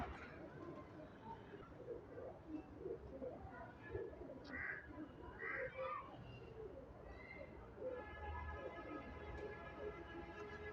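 Lal Pari breed pigeons cooing softly in a loft, low repeated coos at a distance under faint voices and background noise.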